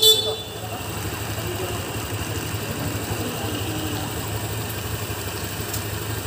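Honda Click 125 scooter idles at a check, a soft, steady low putter close by, fairly quiet throughout with no revving.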